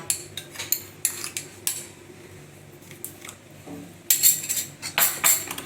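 A spoon stirs salt into besan kadhi in a metal pot, making irregular close, bright clinks and scrapes against the sides, with a busier cluster of taps toward the end.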